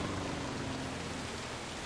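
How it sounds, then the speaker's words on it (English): Rain in the video game Death Stranding, a steady, diffuse hiss of falling water, fairly faint and even, with no voices. "The rain has transitioned to normal rain"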